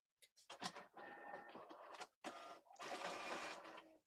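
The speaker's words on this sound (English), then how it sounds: "Sounds like a freaking old laser jet printer" An old LaserJet printer running, giving rapid mechanical rattling and scratchy bursts with a short pause in the middle, close and fairly loud.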